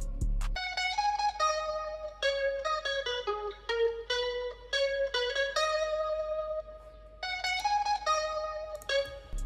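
Sampled sound from Arcade's In the Air taped library playing a top-line counter-melody: a bright, reedy lead tone gliding between held notes in a repeating phrase, clear and close, with no bass underneath.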